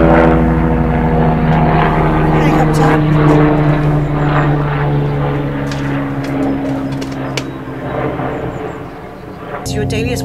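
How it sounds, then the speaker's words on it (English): A propeller airplane passes overhead with a loud, steady droning engine that slowly fades, while a person talks over it. "Planes, planes, planes, planes."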